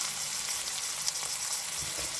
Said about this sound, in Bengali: এর মধ্যে টমেটোটা দিয়ে দিচ্ছি, পেঁয়াজ রসুন আর টমেটোটা দিয়ে দিচ্ছি, একটু ভাজা ভাজা হোক